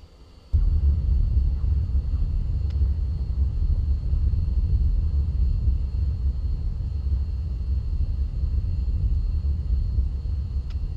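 An F-16's jet engine in the Falcon BMS flight simulator throttles up to full afterburner with the landing gear down, a sudden, loud, steady low roar that holds for about ten seconds.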